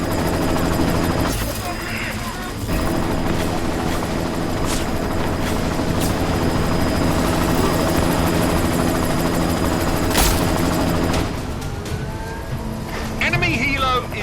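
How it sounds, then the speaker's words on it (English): Helicopter in the video game Deus Ex: Mankind Divided, a loud steady rotor and engine roar running throughout, with bursts of gunfire and voices talking over it. "You've got to stop that chopper."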